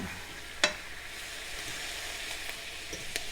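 Butter and maple syrup sizzle steadily in a hot pan, a continuous close frying hiss with a single sharp scrape or pop early on and a few faint clicks.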